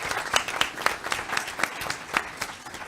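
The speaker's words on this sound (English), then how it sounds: "Applause" A panel audience applauds in steady, distinct claps with crowd murmur behind, moderately loud and sustained for a few seconds.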